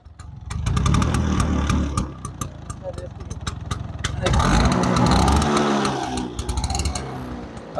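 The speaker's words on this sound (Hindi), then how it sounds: "आपण माने एबे सुनिया पड़छन गाडी रो माने जोटा कि माने एग्जॉस्ट साउंड" A two-stroke Bajaj Chetak scooter runs with a steady buzzing exhaust, close and fairly loud, rising in intensity partway through while someone talks over it.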